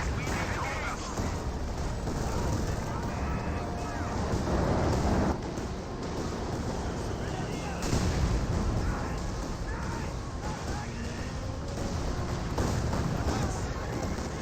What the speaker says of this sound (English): We got now the land mattress firing away.